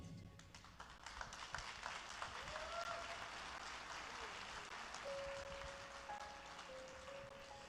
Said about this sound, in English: Keep on clapping as she's coming.